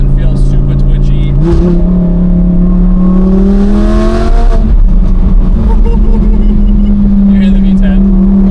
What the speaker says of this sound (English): You hear the V10? Oh, it's great.